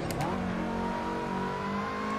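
Race car engine in Assetto Corsa at the Dijon-Prenois circuit, a loud close revving note that climbs and sustains as the car accelerates, with a brief tire squeal; no talking.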